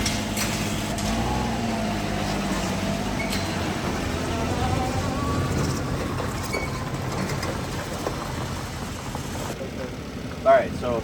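Honda Acty mini truck engine idling with a small exhaust, a steady low rumbling hum close by that persists throughout, with people talking over it and a brief bump near the end.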